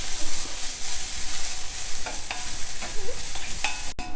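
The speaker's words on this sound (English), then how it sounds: "So just continue roasting it like this till it becomes nice and crisp." Bitter gourd peel sizzles and fries steadily in a hot pan as it roasts until crisp, with a continuous crackle and occasional stirring clicks, close and alone without talk.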